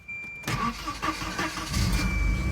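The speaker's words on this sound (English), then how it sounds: "let's actually see if this thing fires up" A Volvo wagon's engine cranks briefly and fires up, catching into a close, fairly loud idle that wavers slightly; no one speaks.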